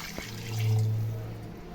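Water is poured into rice in a pot while making mutton biryani. It is one short, soft pour that swells and fades, with no voices.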